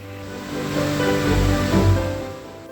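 Roaring rush of the Iripp waterfall in Karnataka, a large multi-tiered fall, as a steady broadband wash of water that swells slightly mid-way and then eases, close and loud with no voices.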